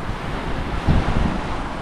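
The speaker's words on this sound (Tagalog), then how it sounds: "Ito mga kabayan yung dagat." Sea surf rolls onto a dark-sand beach at a resort in Sariaya, Quezon, heard as a continuous wash of waves with heavy wind buffeting the microphone and one brief swell in loudness.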